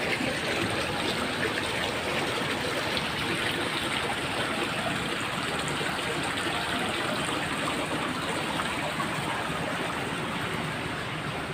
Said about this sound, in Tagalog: Lakas ng agos ng tubig dito.